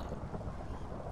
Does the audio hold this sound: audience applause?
no